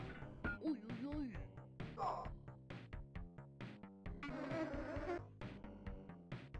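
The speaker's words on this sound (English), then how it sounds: "Why does it sound like a swarm of bees?" A swarm of bees buzzes in the Sir Fred video game. The busy insect drone is mixed with tonal game sounds throughout.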